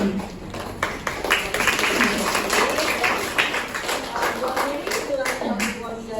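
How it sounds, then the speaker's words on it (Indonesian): Applause from an audience at an international lecture and student debate session, a continuous spread of clapping over a steady murmur of voices. "Tepuk tangan untuk kita semua."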